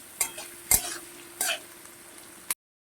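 Onions frying on a medium flame in a pan for a red mutton curry, with three or four distinct scrapes of a spoon stirring them over a steady low sizzle, ending abruptly.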